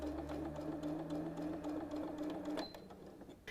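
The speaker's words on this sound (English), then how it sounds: "I'm going to sew just like I did that 1/4 inch. Just going to backstitch a wee bit and go ahead forward." A sewing machine stitches quilt binding along a quarter-inch seam with a brief backstitch, its steady close motor hum and rapid needle rhythm running nearly three seconds before stopping.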